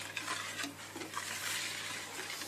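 Egg yolks whisked together with dry ingredients for coconut flour brownies, a soft, quick scraping and swishing in a bowl, close but fairly quiet and continuous.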